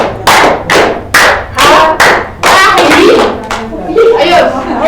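A class doing the 'tepuk semangat' spirit clap: a loud, rhythmic series of sharp claps in groups, close by, mixed with children's voices chanting along.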